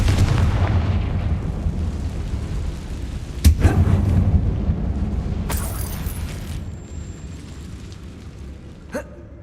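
A Confringo fire spell detonates inside an abandoned mine in Hogwarts Legacy, one sharp blast landing over a steady rumbling background, followed by fainter crackles and a later smaller pop.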